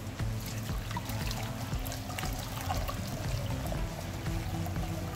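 Spiced bissap hibiscus drink with ginger, clove, cinnamon and Guinea pepper is strained, giving a steady close trickle and pour of liquid throughout.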